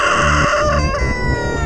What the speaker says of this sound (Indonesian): ayam cemani adalah ayam legam alias ayam hitam